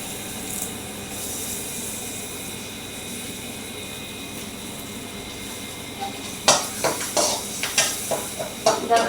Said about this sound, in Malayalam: നമുക്ക് ഇട്ടിട്ട് കറിവേപ്പില ഇടാം